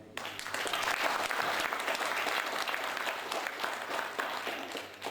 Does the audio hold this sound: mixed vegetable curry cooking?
no